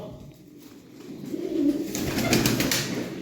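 White pigeons cooing in a loft among other birds, soft murmuring calls that grow fuller and busier toward the end, with faint flutters and rustling in the background and no talking.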